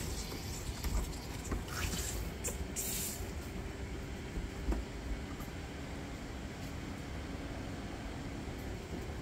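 Aquaponics pump pushing water into garden drip lines, a faint steady hiss and rushing flow with a few soft clunks and taps, no talking.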